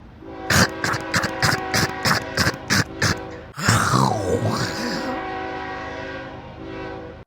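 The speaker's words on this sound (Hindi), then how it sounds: "उसी समय भूतिया ट्रेन वहां पर आता है और लोगों को खाने के लिए आगे बढ़ने लगता है" A ghost train in an animated horror story approaches with a rapid series of rhythmic mechanical chugs, then a loud wailing, bending whistle-like cry that trails off into a sustained rumble.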